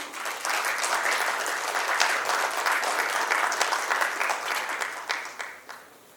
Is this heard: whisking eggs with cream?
no